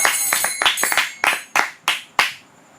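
A small group claps in a loose, uneven burst that thins to a few sharp, close single claps before stopping, with no talk over it.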